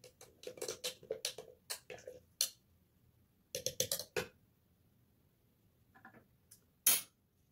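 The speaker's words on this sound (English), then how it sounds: "Let's stir this." A spoon stirs coffee, giving a quick run of small, light clinks and taps against the cup. The clinks are close but faint, with a gap and a few scattered clicks afterward, and no voices.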